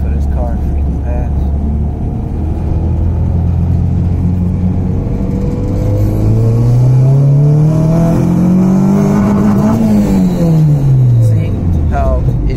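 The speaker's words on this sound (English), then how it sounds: "See how it cracked VTEC for a second" A Honda car engine revs hard nearby as VTEC engages, its pitch climbing steadily to a peak, then dropping off sharply as the driver lets off.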